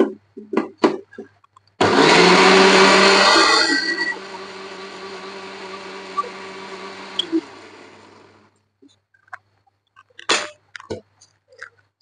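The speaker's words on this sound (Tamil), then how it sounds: "சட்னிக்கு வந்து அரைச்சி எடுத்துக்கலாங்க." Mixer grinder blending tomato, salt and chilli into chutney, a loud whirring roar lasting about six seconds that fades and winds down, bracketed by a few knocks and clicks.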